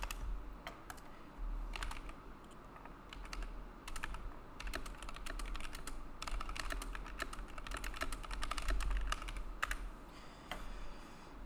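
Steady typing on a computer keyboard, a dense run of close clicks and key taps over a constant low background hum, with no voices.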